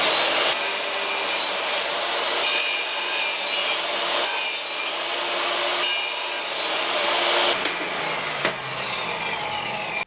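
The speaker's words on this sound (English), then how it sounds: "I'm just going to pre-sand it a bit to save myself having to sand it later" Narrow one-inch wood pieces being pre-sanded while building a nightstand cabinet for a boat refit: a steady, close, abrasive rubbing that runs almost continuously, briefly dipping and resuming, with no talking.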